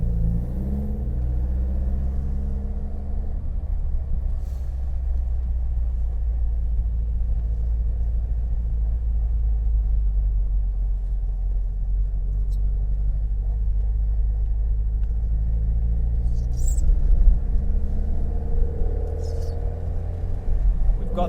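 A Lotus Elan Plus 2, a classic British sports car, drives on sunny, twisty back roads around Bridgnorth, with a steady close engine drone and low rumble that swells slightly later on.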